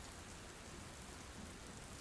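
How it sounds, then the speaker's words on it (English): Steady rain falls in a dense, even patter with no distinct individual drops, continuous and close throughout, with no voices. "Try not to focus on the individual droplets falling from the sky."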